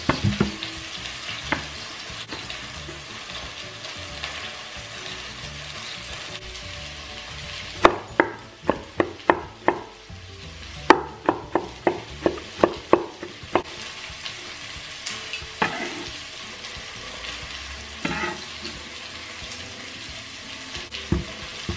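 Garlic and onion sizzle in a pan for a beef stew, a steady frying hiss punctuated by bursts of sharp scraping stir strokes in quick rhythmic runs, close and moderately loud.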